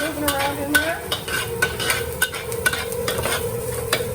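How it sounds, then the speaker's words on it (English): Dried shrimp stir-fried in a hot pan for fried rice, with a steady sizzle and repeated clatters of a spatula stirring and scraping, close and continuous. "In go the dried shrimp. Get those moving around in there."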